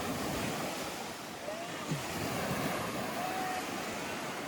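Ocean waves roll onto Morjim beach in Goa, a continuous loud wash of surf mixed with wind buffeting the microphone, without any talk.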